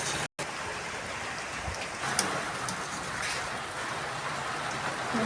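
Rain falls steadily outdoors, a continuous soft hiss of drops on surfaces at even loudness throughout, with a brief dropout near the start and no talking.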